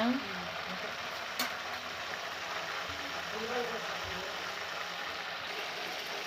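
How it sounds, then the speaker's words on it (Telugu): Brinjals (eggplants) frying in oil in a home kitchen, a faint, even sizzling hiss that runs steadily throughout, with a brief sharp clink early on and no talk over it. "ఈ వంకాయలు ఆయిల్లో మనకు బాగా వేగుతున్నాయి"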